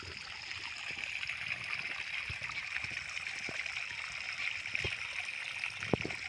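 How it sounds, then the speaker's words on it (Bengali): Steady stream of water pouring into a village pond, a continuous rushing trickle with gurgling and occasional small splashes, close and even throughout. "পুরো জল এসে পুরো এই পুকুরে পড়তেছে।"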